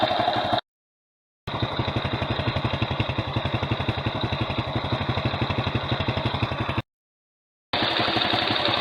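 A small old Delta moped engine idles with a steady rapid putter and clatter, close and even, interrupted by two brief cuts of silence.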